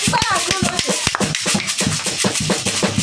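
A church congregation claps in rhythm and calls out in praise to God during a lively worship service, dense hand claps pulsing steadily under mixed voices and singing.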